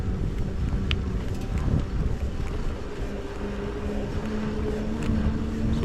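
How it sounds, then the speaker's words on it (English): A Sixthreezero Step-Thru 500W e-bike motor hums steadily while riding, its low whine rising slightly in pitch over the ride, with continuous wind rush across the microphone. "I'll let you listen to the motor here so you can kind of get a sense for how it's different than if I'm just throttling."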